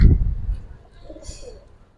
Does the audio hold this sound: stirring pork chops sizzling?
no